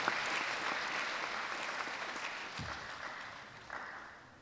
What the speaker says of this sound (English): Please, let's clap for West African International School.